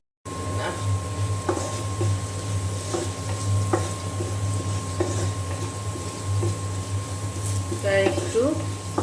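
Whole cumin, chopped onion and garlic frying in hot oil, a steady sizzle with occasional stirring clicks from the pan, heard under someone speaking.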